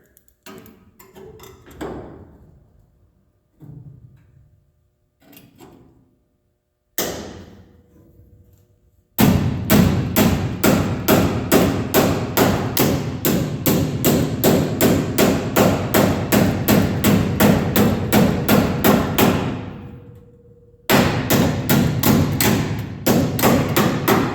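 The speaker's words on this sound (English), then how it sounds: "it's just a matter of gently tapping this down" Steady rhythmic hammer taps on a metal body patch of a 1967 Pontiac GTO, loud and close, running in long even bursts after a few sparse opening blows, with a brief pause before the tapping resumes.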